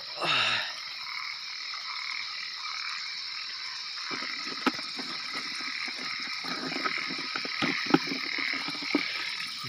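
Large frogs croaking at night in a rural Lao or Thai setting: a continuous high-pitched chorus, with closer, louder individual croaks pulsing irregularly through the second half.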